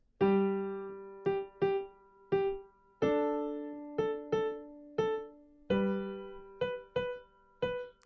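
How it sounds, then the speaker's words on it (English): Piano notes in a long-short dotted rhythm, a held note followed by a quick one, repeated in clear pairs with no voices. "dotted quarter note with an eighth note"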